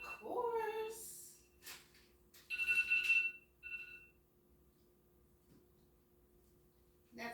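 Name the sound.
kitchen timer alarm ringing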